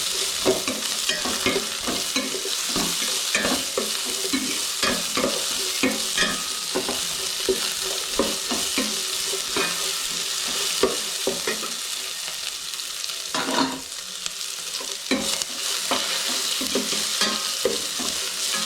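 Sliced onions frying and being stirred in a pan for pepper chicken dry, giving a steady close broadband sizzle with frequent scraping stir strokes and clatters throughout, no talking.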